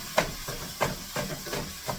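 Sausage sizzling in a pan as breakfast egg roll filling cooks, a steady hiss broken by a few sharper pops and crackles at irregular intervals, close and fairly loud with no talk.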